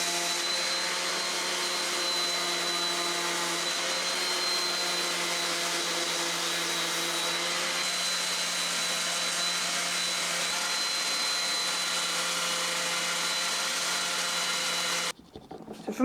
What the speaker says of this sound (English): when I do the sanding, I'm going to be taking off the edges